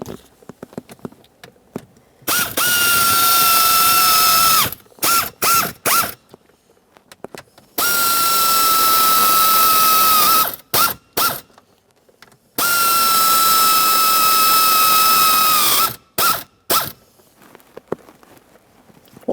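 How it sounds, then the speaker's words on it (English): Ratchet snugging up three mounting bolts on an HVAC mode door actuator in a 2007-2013 Acura MDX, heard as three long, loud whirring bursts with brief clicks and pauses between them, no talk. "All 3 of our mounting bolts are started, and let's snug them up."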